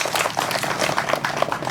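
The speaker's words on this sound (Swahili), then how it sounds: "Makofi." Brief burst of clapping from a gathered crowd at a loan disbursement ceremony, dense and fairly close, with no speech over it.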